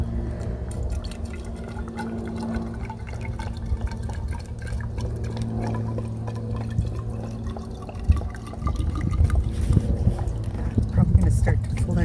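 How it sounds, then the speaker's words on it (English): Vinegar pours and trickles into a container holding yarn, a continuous liquid splashing and dripping that grows heavier toward the end, heard under a person talking. "So all I'm going to do is fill it with vinegar."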